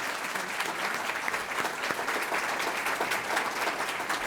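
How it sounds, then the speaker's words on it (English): Audience applause at a Columbus Metropolitan Club annual meeting, a dense, sustained round of clapping from a large crowd that holds steady from start to finish. "let's give them a big round of applause"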